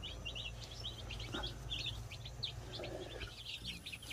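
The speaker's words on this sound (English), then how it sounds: "The chicks in the brooder house are doing fantastic." Baby chicks in a brooder house chirp constantly in high, rapid peeps, many overlapping at moderate distance over a low steady hum of equipment.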